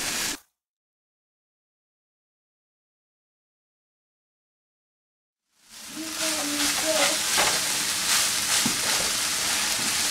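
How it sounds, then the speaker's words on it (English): Seasoned lumpia filling with vegetables hisses and sizzles steadily in a hot pan after a long stretch of silence, a broad, close frying noise with faint clatter of stirring. "you just wanted to mix it until you get your vegetables tender, not too cooked"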